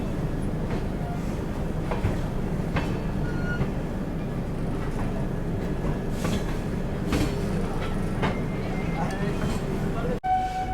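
Mithila Express passenger train running on rails between Raxaul and Muzaffarpur via Motihari, a steady broadband rumble with faint clicking of wheels, heard from inside a coach with some scattered background voices, ending in a brief sharp knock.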